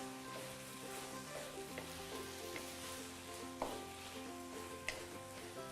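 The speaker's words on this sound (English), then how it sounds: "We are not doing deep frying, we are just doing shallow frying." Steady oil sizzle from a potato pancake shallow frying fills the clip, with a couple of sharp taps of a utensil against the pan.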